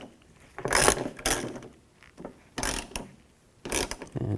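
A ratchet with a T30 socket loosens the door latch bolts on a 2009-2018 RAM 1500 truck, sounding as four close, quick bursts of clicking separated by short pauses.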